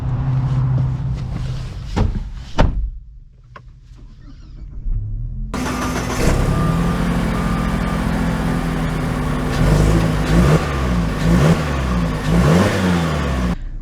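A 2024 Mazda CX-50 Meridian SUV starts up with a brief crank, then its engine settles into a steady running drone that rises and falls as it drives off, close and fairly loud with no talking.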